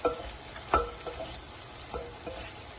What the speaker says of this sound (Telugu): అల్లం వెల్లుల్లి అనేది బాగా వేగి పచ్చిదనాన్ని పోయే వరకు మంచిగా ఫ్రై చేసుకోవాలి.